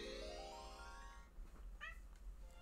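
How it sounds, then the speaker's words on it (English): A pet cat gives a long, drawn-out meow that rises and then falls, followed by a shorter second call, fairly faint against a low background hum, with no talking. "My cat likes to meow a lot."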